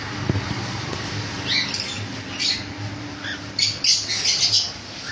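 Conures and lovebirds in a bird shop give loud overlapping squawks and sharp chirps in irregular bursts, with some louder calls close by and others further back.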